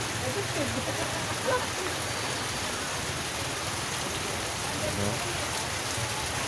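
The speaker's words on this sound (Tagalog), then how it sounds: "umuulan kasi" Steady broadband patter of rain, continuous and fairly loud, with faint voices murmuring underneath.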